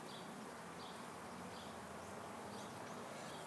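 Honey bees crawl over comb inside an open top bar hive, a continuous close, soft buzzing hum with constant low-level rustle and no pauses.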